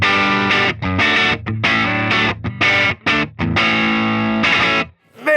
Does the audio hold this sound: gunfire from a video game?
no